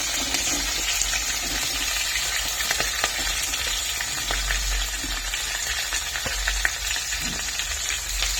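Green chilies and onions fry in hot oil for a tomato curry, a loud, dense, continuous sizzle and crackle with scattered pops, up close and with nobody talking.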